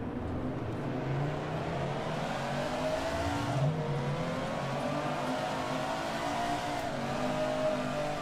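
Race car driving in the GPL racing game, a loud, steady engine roar with repeated rising revs and sharp drops at gear shifts, close and continuous throughout.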